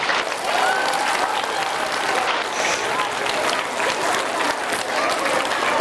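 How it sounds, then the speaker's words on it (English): Elementary school students clapping in a round of applause, a loud continuous patter of many small hands with voices mingled underneath. "Round of applause."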